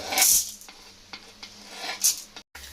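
Chana dal dropped into hot oil in a pan for a chutney, giving short bursts of sharp hissing sizzle with faint scraping in between, all within a few seconds.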